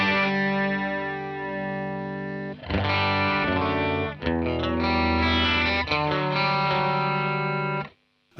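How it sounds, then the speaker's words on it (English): Guitar through a Fender Hammertone chorus pedal at full level and a 14 ms delay setting, sustained strummed chords with a lush wavering modulated shimmer, loud and close, ringing out before a brief stop. "And that's full chorus."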